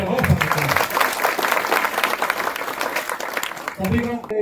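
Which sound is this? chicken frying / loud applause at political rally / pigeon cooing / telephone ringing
loud applause at political rally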